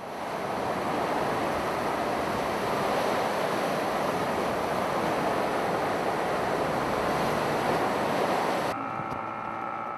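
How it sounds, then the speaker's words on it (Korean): Heavy, rough seas pound around the Myeongjinho, a fishing boat returning home to Jeju through stormy East China Sea waters. A loud, continuous roar of surf and wind fills the whole stretch, with a slight drop near the end. "다음 날도 역시 파도가 거세다"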